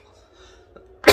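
A single sharp cough bursts out at the end after near silence, loud and close, from someone ill with COVID-19.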